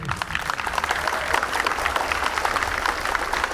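An audience at a Pakistani racing pigeon prize distribution ceremony applauds, a steady, full burst of clapping from a crowd that continues without pause.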